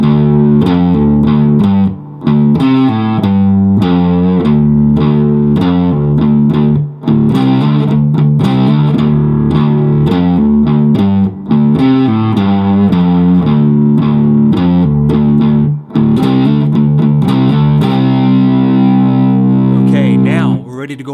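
Distorted electric guitar playing a hard rock riff in drop D tuning, loud and sustained with chugging low notes and brief gaps between phrases, repeated throughout.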